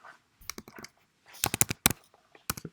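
Computer keyboard typing code, quick bursts of close clicking keystrokes separated by short pauses, with no talking.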